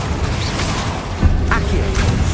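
A Confringo spell blast from Hogwarts Legacy erupts as a booming explosion amid game effects and clatter, with a sharp burst near the middle of the scene.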